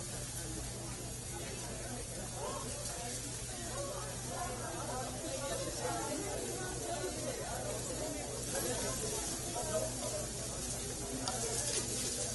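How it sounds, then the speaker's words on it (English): Pork loin sears in a hot pan with a soft, steady hiss and faint sizzle that runs throughout, mixed with background chatter from people talking in the room. "So we're looking for a nice light brown color on the pork loin."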